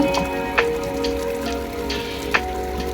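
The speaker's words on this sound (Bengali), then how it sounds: "তারপরে দিয়ে দিই গাছে পানি" Water poured from a jar onto potted plants on a rooftop makes a steady close patter of drops and splashes, with a few sharper taps.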